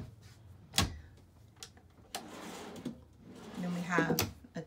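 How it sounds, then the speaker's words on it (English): A few wooden drawer clunks and slides in a 2010 Itasca Suncruiser RV, sharp knocks spaced apart, with a voice talking between them in a quiet room. "You've got five drawers that open."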